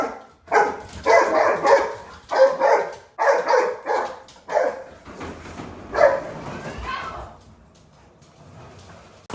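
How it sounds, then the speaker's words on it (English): Several dogs bark loudly and repeatedly in bursts while playing with a person indoors, with yips and whimpers among the barks before the noise tapers off. "My wife is in there playing with the dogs, and it is so loud"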